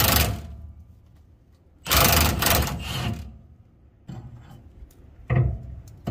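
A Kobalt power tool breaks loose a bolt on a 2022 Ram 2500 with a 6.7 Cummins, delivering two loud close bursts of rattling impact, then quieter clicks and a short final burst.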